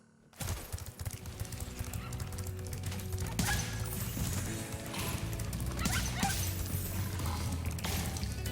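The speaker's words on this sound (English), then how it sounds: "it's mostly just these big red dogs" Big red dogs barking in the Spyro Reignited Trilogy game, heard as repeated yelps and bow-wows over a dense, continuous layer of loud game music and effects.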